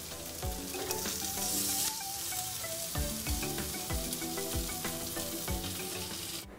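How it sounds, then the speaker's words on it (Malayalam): Fish fries in coconut oil with plenty of curry leaves for a Kerala-style fish fry over medium flame: a loud, continuous sizzle with crackles and spatters, and repeated stirring or utensil knocks. "ഇനി അതിലേക്ക് മീനിട്ട് ഫ്രൈ ചെയ്യാം."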